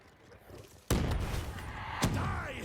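Two loud blasts from grenades going off in Call of Duty Black Ops 3 Zombies as hellhounds are killed, the first sudden and sustained with rumbling debris, the second a sharp burst about a second later.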